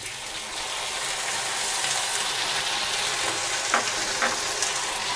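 Tomato and ginger paste sizzles loudly in a pan over frying potatoes for a soya keema dhokar dalna, a dense continuous hiss with a couple of brief stirring scrapes near the end.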